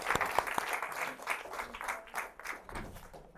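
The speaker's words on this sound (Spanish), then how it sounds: "Recibamos con un aplauso a la doctora Cecilia Lord." An audience in a theatre applauds to welcome a woman lecturer onstage at a literary talk: steady, dense clapping that fills the room, with a faint voice briefly heard near the start.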